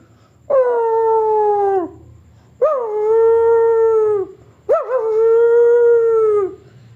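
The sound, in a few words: dog howling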